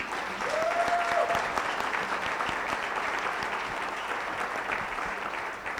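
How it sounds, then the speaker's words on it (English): An audience at an aviation convention claps steadily and evenly. The applause keeps going at one level for several seconds, with faint voices mixed in. "Can you clap for my audience"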